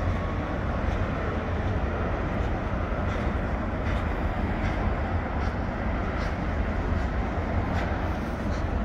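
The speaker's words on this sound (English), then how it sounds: "We got a train carrying some train wheels" A CN freight train carrying train wheels passes through the Pointe-Saint-Charles railyard at night, a steady, dense rumble with faint rhythmic clacks, unbroken throughout.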